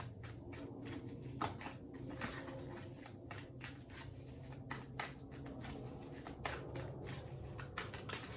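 Tarot cards riffled and shuffled by hand before a draw, a steady run of quick papery flutters and soft rubs, close and fairly quiet, with no talking.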